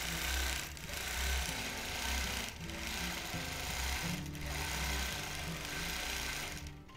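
A vintage sewing machine stitches down a fabric pleat in a steady, continuous run of rhythmic mechanical chugging, close and moderately loud.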